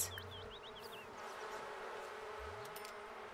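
Bees infested with mites buzz in The Sims 4, a soft insect drone under short chirpy game tones and a brief low sweep; faint, steady, no talking.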